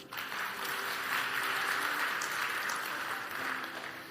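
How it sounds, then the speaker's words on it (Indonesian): A church congregation breaks into applause during a sermon, a dense, even wash of clapping that holds steady for about four seconds. "Beri tepuk tangan"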